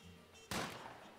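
Twin pistols fired together in the action game Max Payne 3, a single sharp report bursting out and ringing off, fairly loud against a quiet background.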